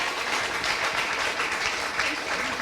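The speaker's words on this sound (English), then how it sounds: "Round of applause." Audience applause at a live FuckUp Nights speaker event on the Gold Coast, a steady, dense wash of many hands clapping that holds at an even level from start to finish.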